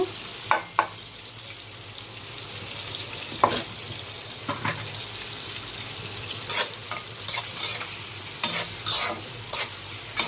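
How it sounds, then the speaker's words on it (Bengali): Onions added to a pan for cooking eggplant sizzle steadily in hot oil, broken by sharp scraping stir strokes and clatters of a spatula against the pan, close and moderately loud with no talking. "আমি এখন পেঁয়াজ দিয়ে দিব ওই বেগুনটি রান্না করার জন্য।"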